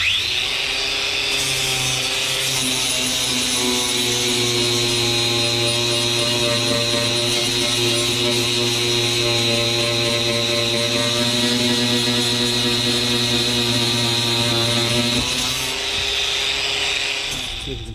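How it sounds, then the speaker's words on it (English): A power sander works over a fibreglass kayak hull, a loud, steady high-pitched whine with a buzzing drone that runs unbroken for most of the stretch and dips briefly near the end. "let's get this sanded down."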